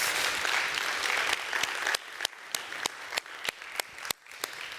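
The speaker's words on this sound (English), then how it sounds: "give them a big round of applause" An audience at a Las Vegas hypnosis stage show applauds the volunteer subjects, a dense burst of clapping that thins out into scattered, separate claps toward the end.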